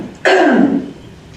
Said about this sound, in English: Sorry, gotta clear my throat first.